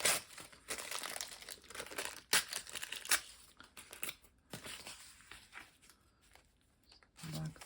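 Paper being torn and ripped by hand for a mixed media collage, a run of crisp crinkling rips and rustles in irregular bursts, close and fairly quiet, with a brief pause near the end.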